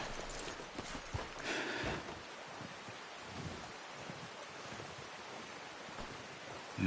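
Hooves of a walking horse clop softly in a video game, a few faint, uneven steps near the start under breezy outdoor noise, then fading into a quiet hush.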